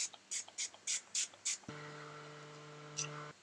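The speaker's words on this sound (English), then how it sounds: "I'm going back with the little Iconic London spray, and I'm again just going to spray the outer perimeters of the skin." An Iconic London face mist spray bottle is pumped several times in quick short bursts, each a brief close hiss, followed by a longer steady tone and one more faint spritz.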